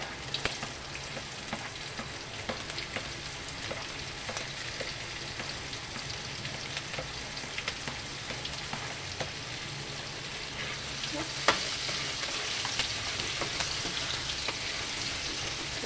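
Onions sauté in a pan with a continuous, fairly loud crackling sizzle that holds steady throughout, with a few faint stirring clicks.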